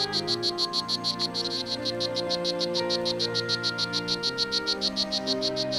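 Tropical frogs calling in a chorus out in the field at La Selva, a steady rapid train of pulsed calls repeating through the whole stretch, with continuous overlapping croaks underneath and no talking.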